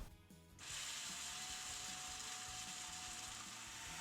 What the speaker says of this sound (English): We are going to start by blending up some cashews in a food processor.